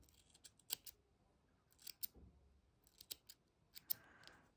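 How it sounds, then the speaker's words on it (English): Quiet, close snips of scissors trimming yarn ends on a knitted elephant, several sharp cuts in small clusters separated by short pauses. "I'm going to just now pick them up like that. and I'm going to trim them off."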